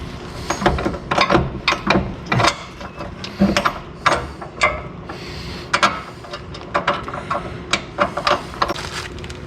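A bolt is driven into a Jeep rock slider bracket, giving rapid ratcheting clicks in close, uneven bursts with short pauses between them.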